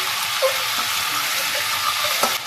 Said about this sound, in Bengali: এবার আমি এতে দিয়ে দেবো চিকেনের পিসগুলো। এখানে আমি মাংসটা সাদা না হয়ে যাওয়া পর্যন্ত ভালো করে মাংসটা ভেজে নেব।